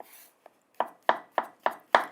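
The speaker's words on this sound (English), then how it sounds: "Cut it in half. Slice." A kitchen knife slices mushrooms for a Lao chicken mushroom soup, with five crisp, evenly spaced cuts thumping close by against a cutting board after a light tap.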